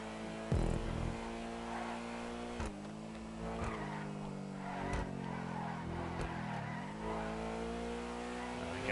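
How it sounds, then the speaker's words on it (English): A car engine in GTA 5 Online races drones steadily while sharp backfire pops crack out several times, mixed with tire skidding as the car slides sideways. "You gotta love that backfire."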